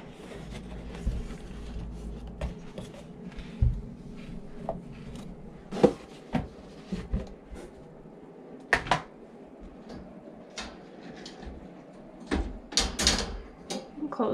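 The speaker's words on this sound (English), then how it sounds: "Close their door." A guinea pig cage door is closed during evening spot cleaning, with a scattered series of quiet clicks, clacks and rattles from close by over a low background hum.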